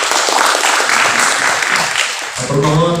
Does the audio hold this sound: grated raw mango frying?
no